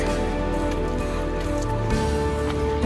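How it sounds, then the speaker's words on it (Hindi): Steady patter of light rain falling on a surface in the Himalayan mountains between Kalga and Pulga villages, Himachal Pradesh, a dense continuous hiss with no talking. "बारिश आ रही है थोड़ी थोड़ी।"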